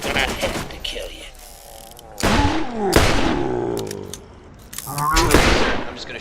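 Gunfire in the shooter game Borderlands, with loud bursts and rapid volleys of shots in several clusters, mixed with game sound effects and voice chatter.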